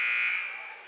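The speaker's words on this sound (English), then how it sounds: "There's the buzzer." A loud, steady electronic buzzer tone ends a timeout at a high school district volleyball game, sounding alone and slowly fading out over under a second.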